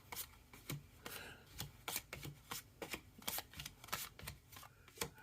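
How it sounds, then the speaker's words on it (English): Cards from the Transformers deck-building game are set down one by one on a table into a three-by-four grid, making a series of soft, close slaps and flicks in an irregular rhythm. "So we're just going to take out the cards."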